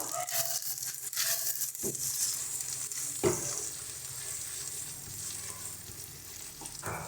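Spices frying in a pan over low gas for Kashmiri aloo dum, with Kashmiri red chili powder and salt, a loud continuous sizzle with crackling and stirring scrapes throughout.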